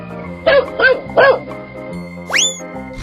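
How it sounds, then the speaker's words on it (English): A cartoonish dog gives three quick, bright barks in an animal-choosing escape room game, fairly close and clear, followed by a short rising whistle-like effect. "Dog."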